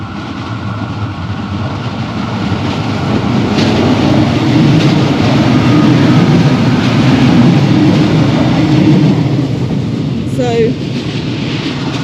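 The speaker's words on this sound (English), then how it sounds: "Oh, here comes a train." A train rolls past near an abandoned barn on a rural farm in Portugal, a loud, steady low rumble building and holding, with a faint high whistle-like tone near the end.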